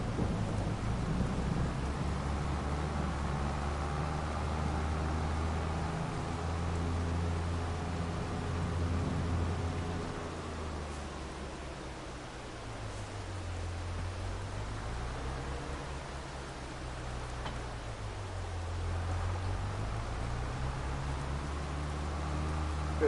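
Steady rain with rolling low thunder in the farming game Farming Simulator 22 on PS4, a continuous broadband hiss that holds for the whole stretch, with deep rumbles swelling and fading underneath.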